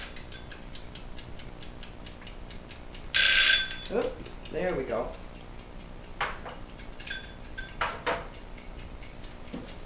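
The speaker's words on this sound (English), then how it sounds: "we'll set our timer for about 25 minutes and we'll check on it." A kitchen timer is set for about 25 minutes while an apple Danish goes into the oven: a quick run of mechanical clicks, then a steady, close tick under brief talk and a few kitchen clatters.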